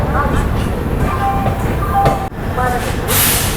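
Twin diesel locomotives stand at Barabanki station in India, a steady low diesel rumble and hiss underlying the whole stretch at a loud, close level, with brief tonal whines and a short gap partway through.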